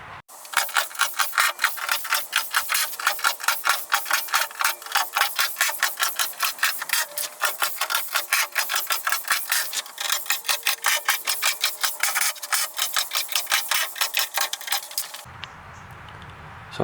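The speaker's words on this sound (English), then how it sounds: "So I've taken all the screws out, and they all came out okay with no breakages" Screws being driven back out of epoxied wooden hull side planks, a close, steady run of rapid ratcheting, rasping clicks that continues for about fifteen seconds before stopping, with no talking.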